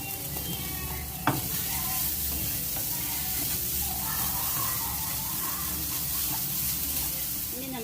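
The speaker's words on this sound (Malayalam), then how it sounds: "ഇനി നല്ലപോലെ ഇതെല്ലാം ഒന്ന് ഇളക്കാം" Spiced masala for a Kerala-style chicken roll filling sizzling and frying in a pan, a steady loud hiss with occasional scraping of the stirring utensil and one sharp knock near the start.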